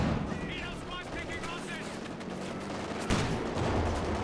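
An infantry support gun fires in a video game battle amid rumbling, crackling gunfire, with one sharper report near the middle, all under continuous talking commentary.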